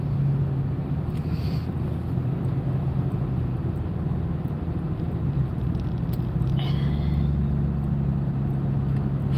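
A car rolls home through traffic, slowing nearly to a stop at frequent lights: a steady low engine and road rumble holds throughout, with faint brief higher sounds passing outside.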